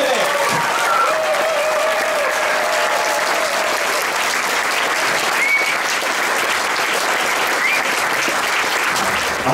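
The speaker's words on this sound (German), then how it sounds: "Wir freuen uns und jubeln für den Bronzemedaillengewinner der WM für Kai Katzmirek." A crowd at a homecoming reception in Neuwied's Deichwelle claps and cheers steadily for world championship bronze medallist Kai Kazmirek, the dense applause staying loud and even throughout, with a few whistles rising above it.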